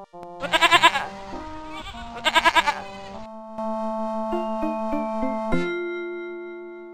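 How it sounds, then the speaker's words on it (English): Two separate bursts of sheep bleating from the Kids Zoo baby animal game on MS-DOS, each a quick run of wavering pulses, then a short chiming jingle, all loud and clean with no talking. "A sheep goes."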